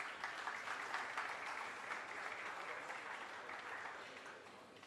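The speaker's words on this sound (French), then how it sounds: "Sous vos applaudissements, bien sûr" A conference audience at an African agribusiness and banking forum applauds as a minister comes up to the podium, even and continuous clapping that stays fairly soft and thins gradually toward the end.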